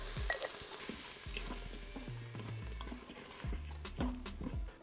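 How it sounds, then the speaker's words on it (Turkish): Onion and red pepper flakes frying in meat fat in a pot, a close, busy sizzle broken by scraping stirs and soft knocks of the spoon, with no voices. "Soğan ve biberi kavuracağız birlikte."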